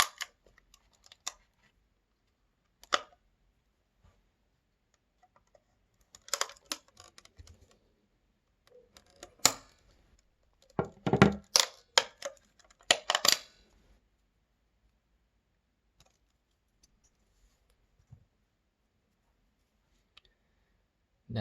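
Plastic cover being pried off a BTicino European modular socket and switch set, heard as scattered sharp clicks and snaps, with a dense cluster of cracking clicks in the middle and faint taps between long quiet gaps.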